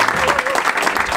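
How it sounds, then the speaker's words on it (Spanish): Brief burst of studio audience applause on a Spanish comedy TV show, loud and dense, with a voice faintly audible beneath the clapping. "está también Ignatius, un aplauso para él que está aquí"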